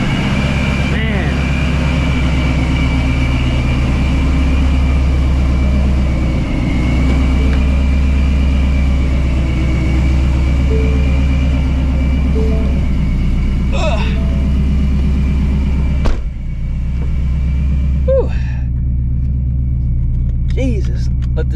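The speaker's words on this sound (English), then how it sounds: "let this car warm up" A supercharged Shelby GT350 warms up with a deep, steady idle rumble that stays strong throughout, broken by brief clicks and a short blip near the end.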